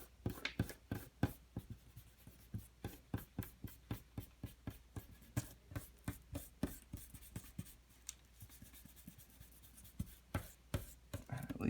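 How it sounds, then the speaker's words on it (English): Quick, steady strokes of pencil-like scratching on paper repeat in close succession for the whole stretch, up close and fairly soft, with no voices. "So it just really gently erases your pencil marks."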